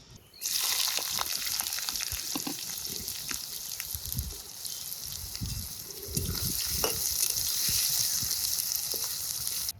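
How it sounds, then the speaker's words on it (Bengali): Chopped onions fry in hot oil with bay leaf, dried red chilli, cumin and garam masala for a mutton curry, giving a steady, close sizzle with occasional scraping stirs that swell the crackle partway through. Nobody speaks. "ফোড়নের পেঁয়াজগুলো ভেজে নিলাম, তবে বেশি কড়া করে ভাজি নাই, হালকা লাল লাল করে ভাজি"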